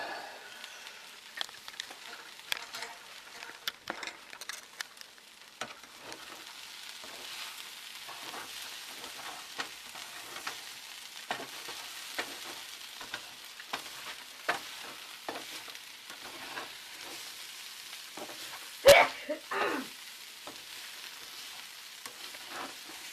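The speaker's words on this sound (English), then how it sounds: "Stir all of this around." A homemade stir-fry sizzles in a pan with a faint steady frying hiss and scattered soft utensil scrapes and clicks, one sharper knock near the end, quiet and close.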